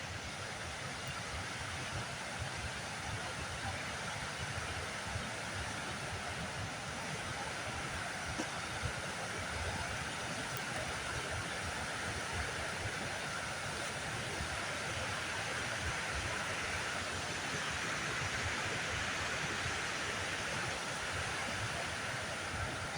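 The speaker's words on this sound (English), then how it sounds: "The river's still running pretty high." High-running river flowing past a beaver dam, a steady, loud broadband rush of water with no pauses, filling the scene close by.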